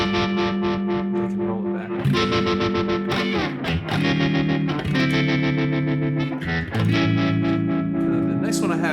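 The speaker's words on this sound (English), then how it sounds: "just like a vibrato, and I've got an expression pedal on all of them. So this one is all the way down. It's kind of like a Leslie sound." An electric guitar plays chords through a Leslie-like vibrato effect controlled by an expression pedal, producing a warbling, swirling tone that changes between strums, while a person talks briefly.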